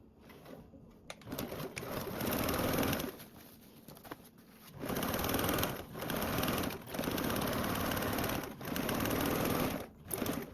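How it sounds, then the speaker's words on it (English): A sewing machine runs a 3/8-inch seam allowance on a tote bag, its steady whirring stitching coming in several sustained bursts separated by short pauses, close and fairly loud. "Now we're going to sew with that 3/8 seam allowance."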